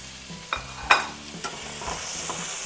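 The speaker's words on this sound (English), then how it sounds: "We'll stir those around a little bit" Artichoke hearts and mushrooms are stirred in a hot pan, a soft steady sizzle broken by a few sharp utensil clinks and scrapes, with no talking.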